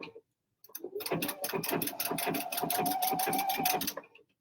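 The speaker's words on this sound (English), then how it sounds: "So I'm going to go ahead and do the little pin stitch." A sewing machine runs a pin stitch for appliqué, its needle clattering in a fast, steady rhythm with a faint motor whine, close and alone for about three seconds.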